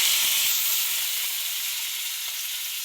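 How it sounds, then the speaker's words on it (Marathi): Mustard seeds and garlic sizzling in hot oil, a loud continuous hiss with a few crackling pops at the start, then a smooth steady sizzle. "मोहरी तर फुटते. लसूण टाकला बरं का."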